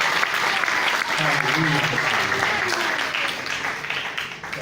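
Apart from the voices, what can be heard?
applause in church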